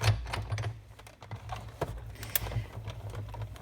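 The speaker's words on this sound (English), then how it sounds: "And just run that through as you would a normal embossing folder." A Big Shot die-cutting machine runs a stamped card through an embossing folder, giving a string of quick clicking and ratcheting taps with a low mechanical rumble underneath, close and fairly quiet.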